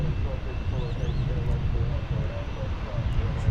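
A Boeing 787 Dreamliner departing DFW Airport, bound for Shanghai, rumbles steadily at a distance as a low, continuous engine drone with a faint whine above.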